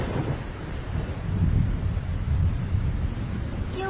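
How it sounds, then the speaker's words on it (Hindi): Steady rain pours down with a low rumble of thunder rolling underneath in a cartoon storm scene, a continuous wash of sound with no voices. "लाडो बारिश में भीगती हुई कालू और गोरी के घर आ जाती है।"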